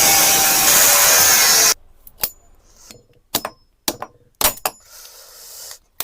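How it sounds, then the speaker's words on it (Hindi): An angle grinder cuts into metal parts of a salvaged generator, a loud continuous high grinding whine that stops abruptly, followed by several sharp clanks and scrapes of metal being handled. "ग्राइंडर को लाया जाए।"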